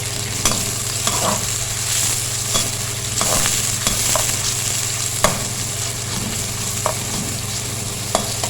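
Finely chopped onion fries in half a cup of oil while browning for a turnip dish. A steady sizzle runs throughout, broken by occasional scrapes and stirring clinks, with no voices.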